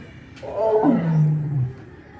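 A zoo lion lets out a single deep, drawn-out roar that rises and then falls away, close and loud over a quiet background with faint human voices.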